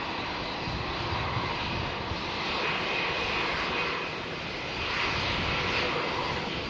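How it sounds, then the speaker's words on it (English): A Jetstar airliner's jet engines roar at Melbourne airport, a loud sustained rumble with a rising and falling swell as the aircraft passes. "Oh, and Jetstar coming and being noisy again, as always, aren't they?"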